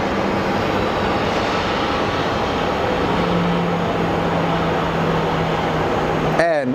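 Jet airplane at Phoenix Sky Harbor Airport, a loud continuous engine roar and rush of air that stays steady throughout, with a low droning hum running underneath.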